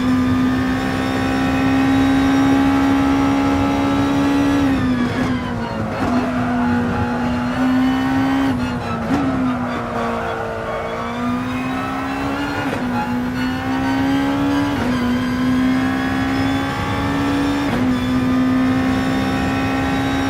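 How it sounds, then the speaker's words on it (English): A Gran Turismo Sport race car accelerates out of a hairpin in a VSS GR.2 championship race, its engine whine loud and steady, rising through the gears with brief dips at each shift over twenty seconds. "nice and smooth out from the hairpin, accelerating gradually,"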